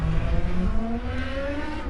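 An Indy car engine at high revs racing down the front straightaway at Circuit of the Americas, a steady rising whine of a single car accelerating past, loud and fairly close.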